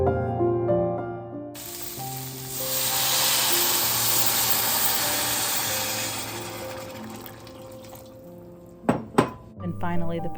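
Vegetables cook in a pan with tomato paste, curry powder, cumin and potato cooking liquid, giving a steady close sizzle and bubbling with clinks of a utensil against the pan near the end.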